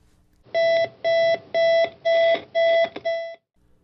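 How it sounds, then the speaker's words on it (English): A digital alarm clock beeps in six loud, evenly spaced electronic bursts, each a short cluster of rapid high tones, with quiet before and after. "Once a staple of daily routines, the digital alarm clock has faded into the background of modern life."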